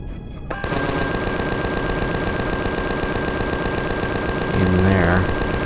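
Anti-personnel turrets in a video game letting out sustained rapid machine-gun fire, loud and continuous for several seconds after a short lead-in, with a voice briefly talking over it near the end.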